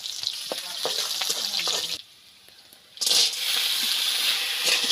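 Onions frying with cumin in mustard oil, a bright, close crackling sizzle that drops out for about a second and then surges back loudly before settling into a steady hiss.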